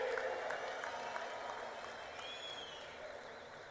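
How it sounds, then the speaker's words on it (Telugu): An audience at a large political public meeting applauds in a steady, fairly faint wash of clapping, with a distant crowd murmur and no speech on top. "చప్పట్లు ఏ విధంగా మారుమోగాలో ఒక్కసారి మళ్ళా చేసి చూపించండి"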